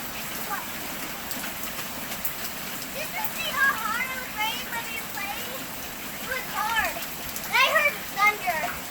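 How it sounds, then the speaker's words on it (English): Heavy summer downpour in New York falls steadily as a constant hiss of rain on surfaces, with children's voices and excited calls rising over it at intervals. "I like the rain."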